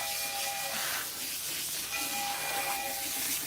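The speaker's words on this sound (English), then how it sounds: "I'm gonna rinse the whole thing." Water rinses hair at a salon, giving a steady, close hiss of spray with faint tonal whines rising over it and no talk.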